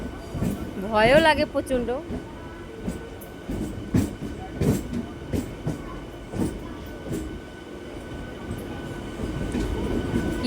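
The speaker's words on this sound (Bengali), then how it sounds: "ট্রেনটা ঘুরছে, কি দারুণ লাগে" A passenger train heard from inside clatters along the rails and rounds a curve at dusk, with wheels briefly squealing in high, wavering tones early on. Steady rumbling and rhythmic clacks continue while a person talks over it.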